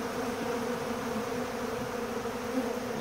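A crowd of honeybees hums steadily around a drawn-out hive frame, a dense, close, unbroken buzz holding an even level throughout with no talk.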